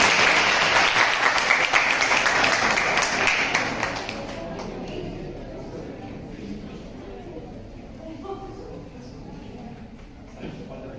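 An audience at a career-guidance session claps loudly and densely for about four seconds, then the applause fades into quieter scattered claps and murmuring.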